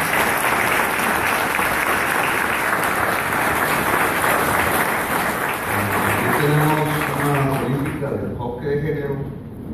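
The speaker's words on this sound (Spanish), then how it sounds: "Pido un fuerte aplauso." Crowd applause greets a political speaker at a progressive rally in Antioquia, with dense, loud, sustained clapping that thins toward the end as a voice and music-like tones emerge underneath.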